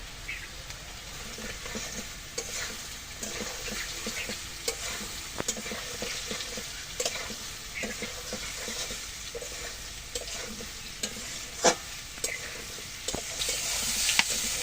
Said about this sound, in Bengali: সয়াবিনগুলো একসাথে ভেজে নেব।